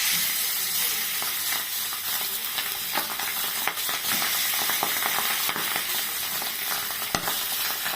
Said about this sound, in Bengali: এবার ভালো গরম হয়ে গেছে, আমি এবার মাছগুলো এক এক করে দিচ্ছি।